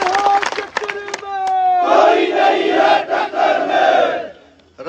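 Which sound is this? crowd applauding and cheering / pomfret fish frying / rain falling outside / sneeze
crowd applauding and cheering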